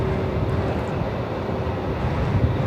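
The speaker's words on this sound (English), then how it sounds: "The Qatari cargo coming in from Doha." A Qatar cargo aircraft arriving from Doha at Melbourne Airport, a steady low engine roar at moderate distance with a faint whine above it, continuous throughout without talk.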